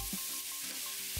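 Thin sliced pork, cabbage and carrots stir-fry in a pan with a faint, continuous hiss of sizzling. There are light stirring noises throughout this short stretch.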